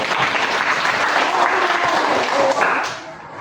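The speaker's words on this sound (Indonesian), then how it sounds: "Berikan tepuk tangan buat teman kalian Ayu" Schoolchildren in a classroom applauding a classmate, a dense burst of clapping that tapers off at the end.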